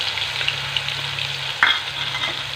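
A paste of ground mustard and green chilli hits a hot pan, giving a steady, moderate sizzle with a brief louder spatter midway and no voices.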